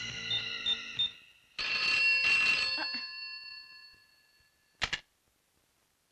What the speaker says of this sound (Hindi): दांडेकर साहब, तनिक अस्पताल में फोनवा तो करके देखिए